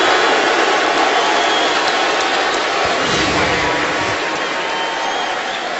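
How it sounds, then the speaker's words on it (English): A crowd at a 2012 NFL stadium game between the Colts and Lions roars in a loud, continuous wash of noise that swells slightly and holds steady throughout. "And Ndamukong Suh, you might hear the reaction from the crowd."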